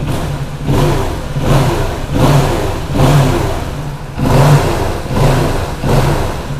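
A 2017 Kawasaki Ninja 650 KRT ABS motorcycle engine revs repeatedly with throttle blips, rising and falling in a steady rhythm, loud and close without speech.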